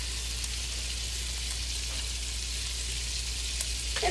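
Chicken fries in melted butter in a pan, giving a steady, even sizzle throughout with faint crackles near the end and no talk.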